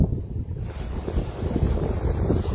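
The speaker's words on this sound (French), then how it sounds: "on a quand même pas mal de vent" Wind gusting outdoors on a sunny day, a steady low rumbling buffet on the microphone that swells and eases throughout, with no voices.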